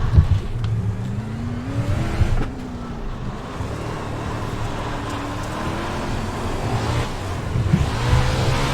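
A race car's engine revs and accelerates in a drift and racing simulator, a loud droning roar with rising and falling pitch sweeps as it shifts through gears, heard alone without talk.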